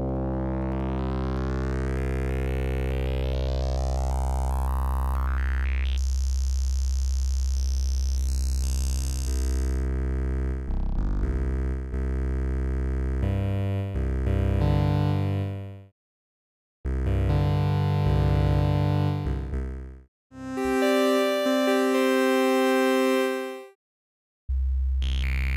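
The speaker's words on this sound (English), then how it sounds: "And rough yet organic bass tones." Rough yet organic bass tones from an Absynth synthesizer with fractalized oscillators: a rising sweep opens into thick, buzzing low notes that change pitch in steps and cut to silence in short gaps, loud and alone.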